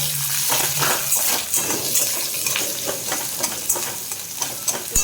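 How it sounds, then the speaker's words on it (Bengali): Nigella seeds, onion and garlic sizzle in hot oil in a pan. The steady crackling fry is close and even, broken by frequent stirring scrapes and light clinks of a spoon against the pan. "ভাজা ভাজা হবে"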